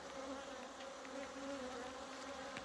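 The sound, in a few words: bees buzzing in a hive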